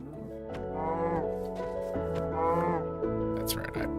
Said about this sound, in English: That's right, I punched a cow.